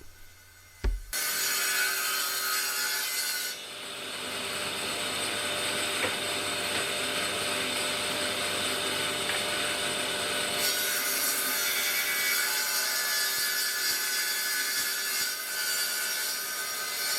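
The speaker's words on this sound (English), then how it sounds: "I'm cutting them through the nail holes that were put into the skirting board" A saw cuts through a wooden skirting board along its old nail holes, slicing the profile in half. After a brief knock, loud, steady rasping strokes run continuously and close by, with no talking.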